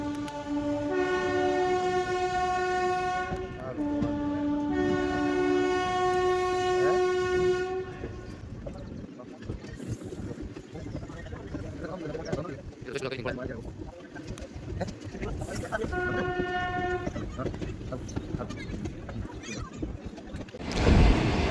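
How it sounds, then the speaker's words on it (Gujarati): Two passenger trains on parallel tracks near Lathi on the Okha–Rajkot–Porbandar route pass close together, with loud sustained horn blasts, steady rumbling wheels and rattling coaches throughout, and birds and voices faint in the background. "ઓખા રાજકોટ પોરબંદર જે બે ટ્રેન ભેગી થઈ ચૂકી છે તમે જોઈ શકો છો આપણી બે નજીક નજીક ટ્રેન આવી ગઈ છે"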